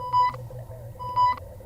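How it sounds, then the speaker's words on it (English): Two electronic beep bursts with a steady tone, spaced about a second apart over a low hum, sounding as an alert on board a spaceship during an Alien roleplaying game session. "And there's also beeping now."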